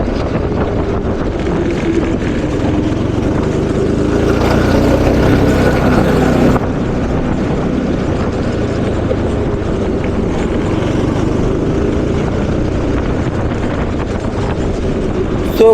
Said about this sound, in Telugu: సో ఫస్ట్ అయితే కార్ట్ కండిషన్, ట్రాక్ కండిషన్ అలవాటు చేసుకోవడానికి మనం స్లోగా అయితే రైడ్ చేస్తున్నాం.